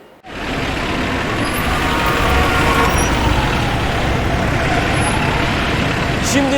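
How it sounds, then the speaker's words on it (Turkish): Heavy road traffic roars steadily nearby, a dense rumbling wash of engines and tires with occasional higher whines, loud and continuous. "Gerçekten trafik çok hızlı bir şekilde akıyor"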